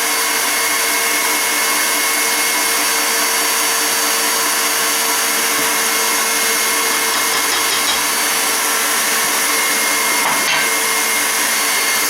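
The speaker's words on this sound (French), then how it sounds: "mes blancs sont montés, je vais les serrer avec le sucre" An electric mixer whips egg whites with sugar for almond cakes, giving a loud, steady, unbroken whir close by for the whole stretch.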